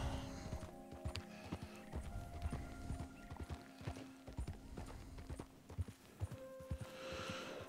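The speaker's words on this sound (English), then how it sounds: "Clippity-clop, clippity-clop." Horse hooves clip-clop in Red Dead Redemption 2 at a steady walking rhythm, up close, with occasional whinnies and tonal game sounds in the background.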